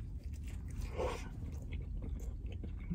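Someone eating a Burger King breakfast sandwich, with soft, close chewing and a muffled bite near the middle, heard alone without talk.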